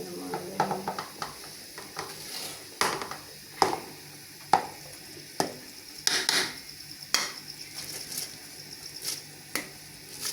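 Rice poured and stirred into a pot of frying beef pilaf, with repeated scraping, stirring and clattering strokes over a steady background sizzle, close and moderately loud with no talk.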